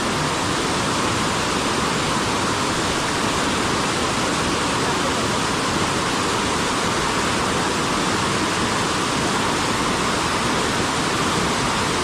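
A river swollen after rain rushes hard and steadily in the Konkan region near Dapoli, India, a loud, unbroken roar of fast water close by, with no pauses or other sounds.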